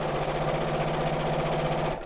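A small sewing machine stitching fabric around a biscornu pouch, running in a steady fast whirring rhythm up close for about two seconds before stopping abruptly, with no talking.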